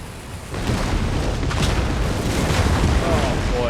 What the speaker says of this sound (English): There go the rockets.